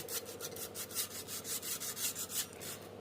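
A sharpening tool is drawn repeatedly along the edge of a pizza cutter to deburr it, giving a quiet, rough rasping scrape in steady back-and-forth strokes, close up and with no voices.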